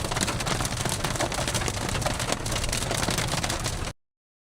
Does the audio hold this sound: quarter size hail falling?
yes